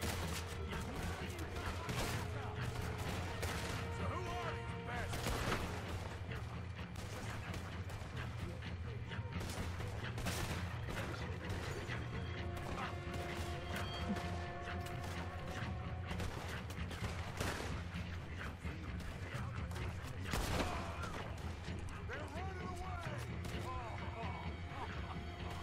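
Gunfire crackles in Red Dead Redemption 2 in scattered single shots and short volleys against a rumbling backdrop, some close and sharp, others distant, with bursts of talk mixed in.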